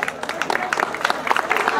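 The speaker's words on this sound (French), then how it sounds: "allez, on les applaudit" Audience applause at the team presentation of the Girls Alsace Cup 2019 youth tournament, a steady patter of many hands clapping at moderate distance with no talk over it.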